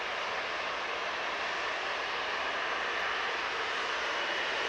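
An EasyJet airliner at Manchester Airport gives off a steady, broad jet-engine roar, even and continuous at moderate distance with no voices over it.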